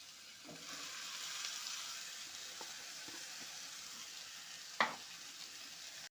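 Chopped cabbage fries in spiced oil for a Bengali fish-head cabbage dish. A steady, faint sizzle runs with light stirring scrapes and one sharp clack of a utensil near the end.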